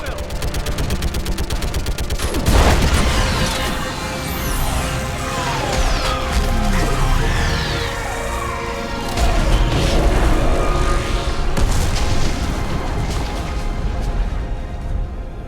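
Heavy gunfire and explosions from a Mass Effect 3 battle against a live Reaper roar continuously, with booming blasts, sweeping energy sounds and machine-gun bursts layered densely throughout.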